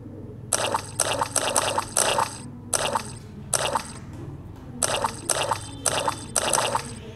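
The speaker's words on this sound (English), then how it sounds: "Splash in the muddy puddles." Cartoon splashing in muddy puddles, Peppa Pig style, a steady run of wet, squelchy splashes in two groups with a short pause between them, close and lively, no voices over it.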